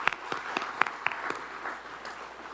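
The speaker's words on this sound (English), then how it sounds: "Big round of applause for all of our sponsors today." Applause at a schools event, scattered sharp claps from a modest audience ringing out in an uneven rhythm, fairly close, tapering off over a couple of seconds.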